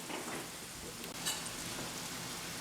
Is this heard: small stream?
no